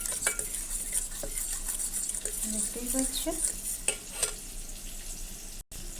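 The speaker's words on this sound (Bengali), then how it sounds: "এর ভিতরেই কিন্তু আমি সস ঢেলে দিলাম এর ভিতরেই সল্ট দিয়ে দিলাম দেখো আমি এই সব লিকুইড সব আমি মিক্সড করছি" Sauce, salt and liquids being stirred together in a pan: continuous wet stirring and scraping with light clinks of a utensil over a soft background sizzle, and someone speaks briefly.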